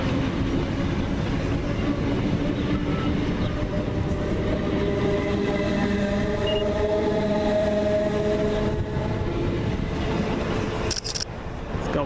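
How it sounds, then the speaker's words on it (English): South West train unit 455731 pulls away from Chessington South on the 1654 service to London Waterloo, a steady loud rumble of traction and wheels with faint clickety-clack throughout, fairly close and alone. "Four 55731 now leaving, one half of the 1654 South West train service from Chessington South to London Waterloo."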